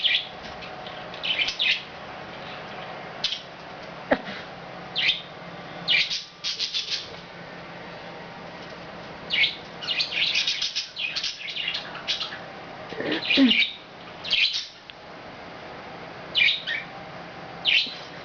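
Pet budgies chirp and squawk in repeated bright bursts, close and fairly loud, with short quiet gaps between flurries of calls and no talking.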